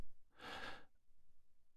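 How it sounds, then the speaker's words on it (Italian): A single soft, breathy exhale into a voice-over microphone with a gate expander, close and quiet, followed by faint room noise. "Sto respirando da solo e tu mi stai ascoltando."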